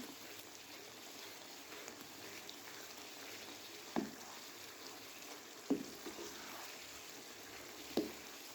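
Chicken biryani masala sizzles quietly in a pot as it fries, a soft steady hiss with a few faint knocks from stirring.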